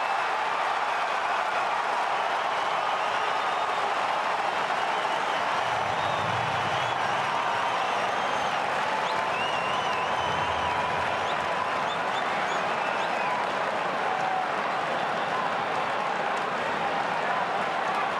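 Roaring crowd at an Australian football match at the Western Bulldogs versus St Kilda game as a goal is kicked, a continuous loud wash of cheering that holds steady throughout.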